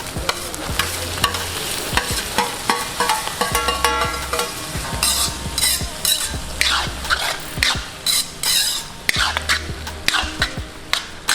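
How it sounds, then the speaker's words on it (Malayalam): Clams, with curry leaves, sizzle in a hot pan while a utensil stirs and scrapes them in quick, irregular strokes, with occasional clinks of metal. "നമ്മൾ കക്ക ഇതിൻ്റെ കൂടെ തന്നെ ഇടുന്നു ലൈവായിട്ട്"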